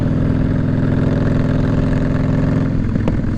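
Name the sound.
Harley-Davidson Softail Slim engine with loud short shot drag pipes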